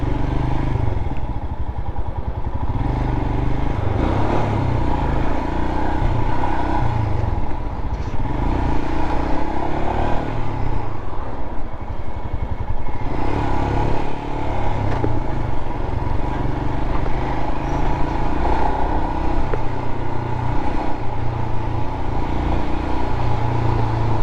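A Royal Enfield Himalayan motorcycle is ridden with its engine droning steadily and loudly the whole time, along with road and wind rumble. No one speaks.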